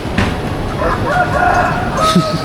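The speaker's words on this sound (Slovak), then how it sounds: "Ale chápeš, normálne tu počuť kohúta." A rooster crows somewhere in the distance in Da Nang, Vietnam, one drawn-out call standing out from a busy outdoor hum.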